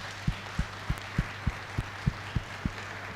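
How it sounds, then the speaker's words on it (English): Slow, rhythmic group clapping at a SACCO society annual general meeting, about nine evenly spaced dull claps in unison over a steady low hum, moderately distant. "So can we give them a big clap?"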